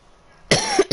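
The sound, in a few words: cough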